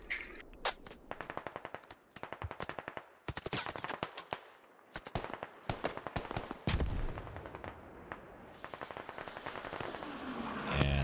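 Incoming smoke mortar rounds in the video game Squad, heard as dense bursts of sharp cracks and rapid gunfire-like reports that keep repeating over about eleven seconds, some close and loud and others farther off, with no talking.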